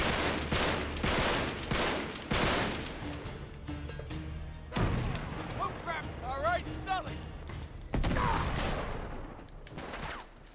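Rapid gunfire in Uncharted 3: Drake's Deception, bursts of shots and sharp impacts crackling in repeated volleys, with crashes and a few voiced grunts mixed between them, loud and close.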